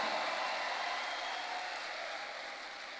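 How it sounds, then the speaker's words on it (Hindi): A large event crowd gives sustained, hearty applause with hands raised, a dense wash of clapping that stays loud and even for the whole stretch and fades only slightly toward the end. "हाथ उठा के बजाओ, जानदार तालियां"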